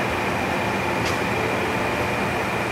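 A 40 ton high speed Bruderer press moves up, with a steady loud mechanical hum and whir that runs unchanged throughout, plus one brief faint tick partway through.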